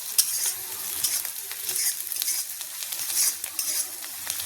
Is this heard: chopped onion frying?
yes